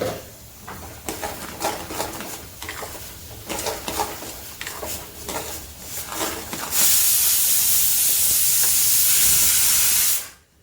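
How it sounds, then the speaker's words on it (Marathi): A pressure cooker of dal and rice, cooked as a festival offering, bursts into a loud, steady steam hiss for several seconds and then cuts off, after softer kitchen clatter and rustling. "वरण भाताचा कुकर लावलाय मी नैवेद्यासाठी"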